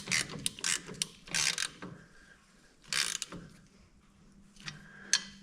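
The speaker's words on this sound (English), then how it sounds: "I'm just going tight, but not Superman tight" A ratchet tightening exhaust bolts on a vehicle, heard as rapid clicking bursts in several close, fairly quiet runs separated by short pauses.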